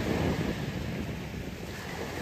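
Atlantic Ocean surf rolls along the Sussex coast in England, a steady broadband wash of waves with wind buffeting the microphone, loud and continuous with no voices.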